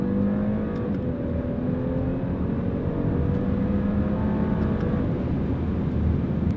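An Audi A7 accelerating, heard as a constant engine drone with rising tones and steady road and wind roar, recorded loud from inside the car, with no talking.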